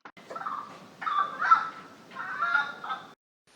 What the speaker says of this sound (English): here are some bush turkeys sunning the feathers under their wings